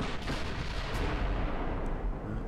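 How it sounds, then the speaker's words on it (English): Heavy 16-inch naval guns pound away in a battle in Ultimate Admiral: Dreadnoughts, making a dense, continuous roar of booming artillery with no clear gaps. "Getting pounded by 16-inch guns."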